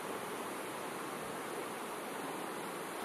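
A fast-flowing river north of Paro city in Bhutan gives a steady, faint broadband rush, unbroken and alone throughout.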